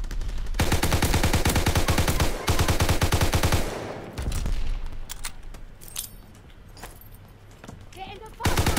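Rapid automatic gunfire rattles in the game Call of Duty: WWII during team deathmatch, long dense bursts of loud shots followed by scattered single shots and smaller pops, with players talking over it.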